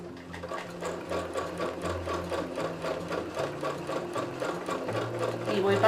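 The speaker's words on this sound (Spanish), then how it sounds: "pues ahí voy con puntada recta, también por el borde con el prensatela de bordado libre" A sewing machine straight-stitching with a free-motion embroidery foot along the edge of a star shape while quilting fabric, running in a fast, even mechanical rhythm close by for several seconds.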